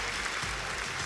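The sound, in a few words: crowd applause at track cycling World Cup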